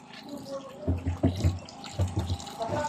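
Water runs from a tap on a farm, splashing in uneven close bursts while voices talk over it.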